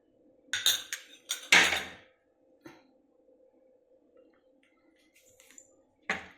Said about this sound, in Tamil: மேலே கொஞ்சம் ஐஸ் போட்டுக்கலாங்க.